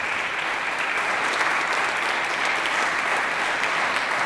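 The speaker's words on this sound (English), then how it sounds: "And I think that's also deserving of a round of applause." Steady, dense applause from a university convocation audience at a Charter Day homecoming, loud and sustained throughout with no pauses.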